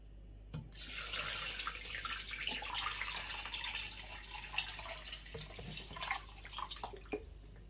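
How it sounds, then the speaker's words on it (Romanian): Cold water runs into a pot lined with a towel, for sterilizing jars of cucumber salad, a steady close hiss and splash from a tap that starts abruptly and carries on with drips and small knocks, no voices. "Voi pune apă rece."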